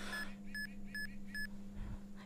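A hidden camera detector near a camera gives three evenly spaced electronic beeps, bright and clean over a steady low hum, followed by a brief low thump.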